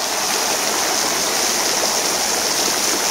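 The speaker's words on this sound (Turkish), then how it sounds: "Evet. Şelalenin altına geldik." Güney waterfall in Denizli, Turkey, heard from beneath the falls: a loud, steady, close rushing roar of falling water that stays unbroken throughout, with no voices.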